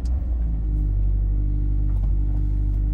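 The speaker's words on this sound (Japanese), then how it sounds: "でちょっとエンジンかけてみましょう。" A Toyota 86 2.0 GT Limited with an aftermarket muffler starts up, the engine catching quickly and settling into a deep, steady idle rumble, loud and close with no talking.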